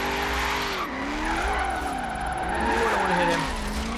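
A car drifting in the video game Forza Horizon 3 squeals its tires in long, wavering skids over a revving engine, loud and continuous throughout.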